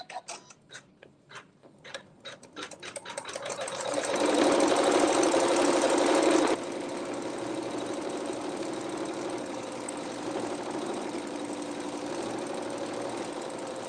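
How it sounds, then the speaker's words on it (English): A sewing machine stitches quilting through fabric, starting with slow, separate needle thumps that speed up into a steady, loud mechanical whirr, then continue at a slightly softer, even pace. "now we're going to sew that quilting"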